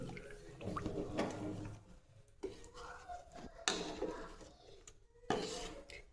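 Chivda masala mixed in oil and poured over the chivda mixture for a Diwali snack, giving close scraping and rubbing of a spoon against a metal pan with a few clinks, in uneven bursts.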